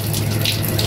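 Water gushes from a tap in a steady, close, fairly loud stream for just under a second, with no voices.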